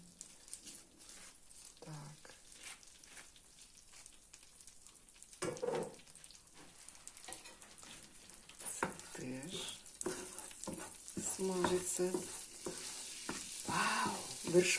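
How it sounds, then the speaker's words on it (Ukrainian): Food sizzles gently in a pan while a spoon stirs and scrapes now and then, with a voice speaking at moments. "тут смажиться вже повільно."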